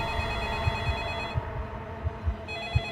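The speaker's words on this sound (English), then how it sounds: "the phone stopped ringing" In a closed office at night a telephone rings steadily in a continuous electronic trill, with a low rhythmic throb under it and a brief change in tone partway through.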